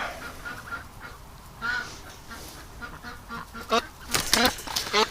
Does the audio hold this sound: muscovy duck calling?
yes